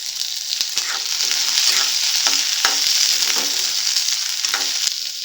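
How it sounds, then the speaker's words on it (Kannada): Onions, curry leaves, green chillies and dried red chillies frying in hot oil for onion chutney, a steady close sizzle with several sharp spoon scrapes and stirs against the pan, no voices. "ಈಗ ಎಣ್ಣೆ ಕಾದಿದೆ ಈರುಳ್ಳಿ ಹಾಕ್ಕೊಳ್ತಾ ಇದ್ದೀನಿ ಈರುಳ್ಳಿ ಕರಿಬೇ ಸೊಪ್ಪು ಹಸಿಮೆಣಸಿನ್ಕಾಯಿ ಒಣಗಿದ ಮೆಣಸಿನ್ಕಾಯಿ ಹಾಕ್ಕೊಂಡು ಫ್ರೈ ಮಾಡ್ಕೊಳ್ಳೋಣ"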